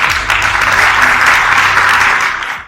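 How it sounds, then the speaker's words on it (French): Applause from an audience at an award gala, a dense even wash of clapping that fades out near the end, with no talk over it. "je pense que ça mérite une bonne main d'applaudissements"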